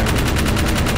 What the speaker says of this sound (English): Keep shooting just in case they kill it